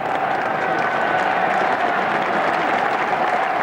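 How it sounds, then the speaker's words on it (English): Steady, unbroken applause and cheering from the crowd at Lord's during the 1989 England v Australia one-day cricket international, a dense wash of clapping throughout. "They'll be cheering that on."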